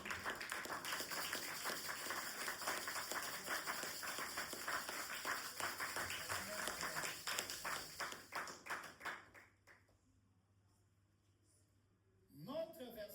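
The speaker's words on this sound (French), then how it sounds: "Est-ce que vous pouvez acclamer le Seigneur?" A church congregation claps in a dense, rhythmic burst that thins out and stops, followed by a near-silent pause before a voice resumes.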